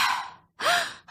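A narrator's voice imitates an airplane panting, two heavy breathy huffs separated by a short pause, close and fairly loud, with the start of a third at the very end.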